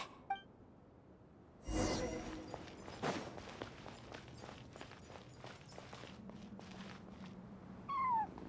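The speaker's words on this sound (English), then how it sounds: "I followed the cat's cries to find my way out" A cat cries in the Genshin Impact video game during a ruins exploration event, with short high calls near the start and end over game footsteps, clinks and ambient effects.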